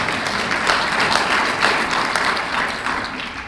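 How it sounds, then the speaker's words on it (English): An audience at a Canadian Club of London gathering applauds, with dense, steady clapping that holds loud and even throughout. "Please give yourselves a good round of applause."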